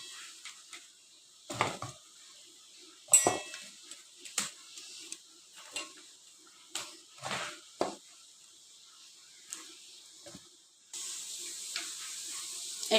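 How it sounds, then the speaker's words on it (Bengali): Pointed gourds drop into a cooking pot in a kitchen, a series of soft knocks and clatters at irregular intervals, close and fairly quiet, ending in a steady hiss. "পাত্রতে পটলগুলো সব দিয়ে দেবো"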